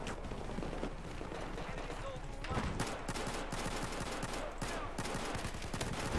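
Dense, rapid gunfire from the video game Battlefield 4, with pistol shots among continuous loud bursts and explosions that fill the whole stretch without pause.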